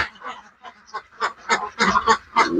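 Ducks quacking close by in a loose series of nasal calls, growing louder and more frequent toward the end.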